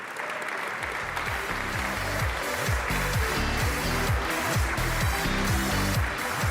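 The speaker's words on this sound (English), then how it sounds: "please welcome to the stage with a big round of applause, Italy, Latvia, Lithuania, Luxembourg, Malta, the Netherlands, and Poland" Applause from an audience at the European Charlemagne Youth Prize 2023 ceremony in Aachen, greeting presenters arriving on stage, is loud and steady throughout, with a dense wash of claps over a strong low rumble of music or hall noise.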